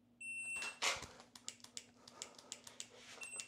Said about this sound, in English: We got a preset par timer trying to get shots off on every target along the way.